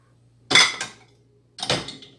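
Dishes and plates clink and clatter as they are loaded into a Beko dishwasher rack, two separate bursts of close, bright ceramic and metal knocks with quiet between them.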